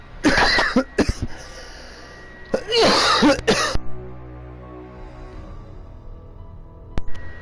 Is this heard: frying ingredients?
no